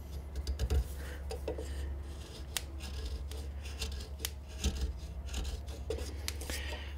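A chisel scrapes and pares a wooden spatula being thinned, giving short, sharp scraping strokes at an irregular pace over faint background hum, close to the microphone.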